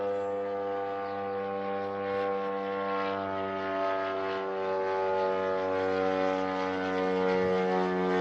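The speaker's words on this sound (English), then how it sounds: "we also got to see some drones near Podolsk flying on in deep as well right here." An attack drone flies in near Podolsk, Russia, giving a steady, loud droning propeller engine tone with strong layered harmonics that holds unbroken throughout, like an old bomber approaching, with no talk over it.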